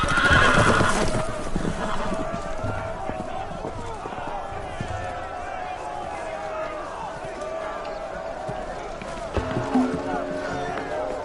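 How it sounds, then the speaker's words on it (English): Horses neighing and whinnying with clattering hooves as they run loose in a Telltale Game of Thrones game scene, a loud whinny at the start, then steady galloping and commotion under a dense musical score, with a voice heard mid-scene. "The horses! They're loose!"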